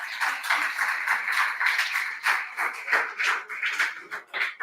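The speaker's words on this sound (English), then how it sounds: "Give him a round of applause" A crowd claps steadily at an awards ceremony, a moderately distant patter of many hands with small swells and dips in intensity throughout, no voices on top.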